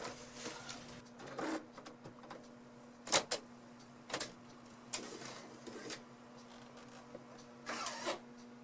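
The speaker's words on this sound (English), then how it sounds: "I installed this driver and bugger me, my 1500W printer has now printed 3" An Epson Stylus Photo 1500W printer prints on a DVD, giving faint mechanical whirring with intermittent clicks and clunks of the carriage and tray under a steady low hum, no speech.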